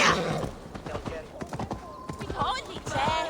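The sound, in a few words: horse hooves trotting in Assassin's Creed Valhalla video game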